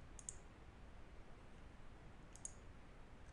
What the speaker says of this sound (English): I just have to click Delete.